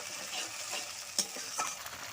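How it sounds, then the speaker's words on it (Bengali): Garlic paste, onion paste and spices fry in a pan with a soft steady sizzle, while a spoon stirs them with a couple of light scrapes and taps, close and quiet. "রসুন বাটা মশলাগুলো খুব ভালো করে কষিয়ে নেব"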